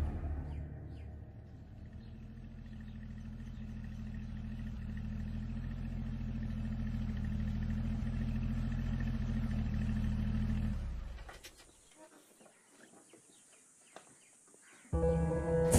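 A car engine idles with a steady low rumble for about ten seconds, then cuts off, leaving quiet background with faint birds, before another noise starts near the end.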